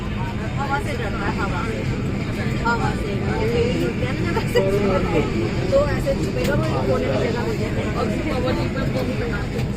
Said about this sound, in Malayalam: ഇവിടെ നിന്ന് പൊങ്ങാൻ പോവുകയാണ് വണ്ടി സ്റ്റാർട്ടായി തുടങ്ങി